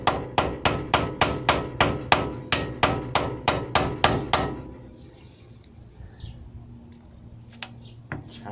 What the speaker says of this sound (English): Take a flathead, put it in the groove, take a hammer